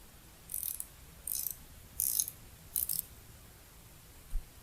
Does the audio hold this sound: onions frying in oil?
no